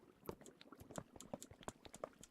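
Bubbling water in a Minecraft cave, heard as a quick series of soft, distinct bloops and pops in an irregular rhythm, fairly close and fairly quiet, with no talking.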